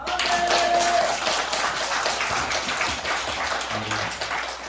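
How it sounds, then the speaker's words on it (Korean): A church congregation applauding during an evening worship service, steady massed clapping close and loud, with faint voices and a low tone beneath. "오늘 우리에게 은혜 주신 주님을 찬송하며 박수를 한번."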